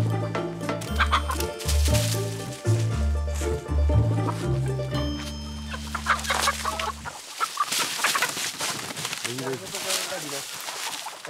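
Chickens clucking amid a busy roadside border crossing between Colombia and Venezuela, where a smuggler hauls about a hundred hens a day; the birds are loud and close, mixed with music-like tones and voices talking.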